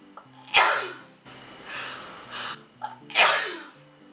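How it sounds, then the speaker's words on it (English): Two loud, close sneezes, each with a sharp burst, separated by soft breathing and shuffling in a quiet room. "I'm gonna sneeze."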